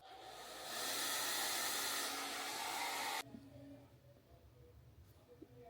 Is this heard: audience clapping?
no